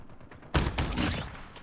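NA45 sniper rifle firing in Call of Duty Mobile gameplay, a single sharp, loud, close shot that breaks in suddenly and then rings out with a reverberating tail.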